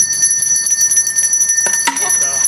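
A Salvation Army kettle bell rings in quick repeated strokes with bright, sustained metallic overtones, close and loud, and a voice briefly joins near the end.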